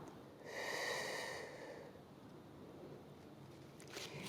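Deep breathing during a Pilates back exercise, a single audible breath drawn in and let out close by, followed by quiet with a faint rustle near the end.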